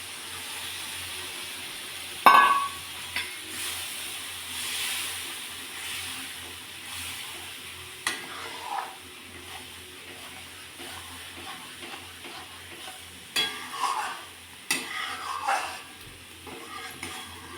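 A milk-based paste for paneer bhaji is added to hot oil in a pan over a low flame and gives off intermittent bursts of sizzling hiss, a sharp one near the start and later softer flurries.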